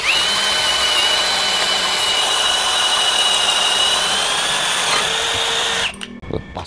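A DongCheng DCJZ1250i 12V cordless brushless impact drill runs at speed 1 in drilling mode with a heavy bit, a steady loud high whine held for several seconds before it cuts off abruptly.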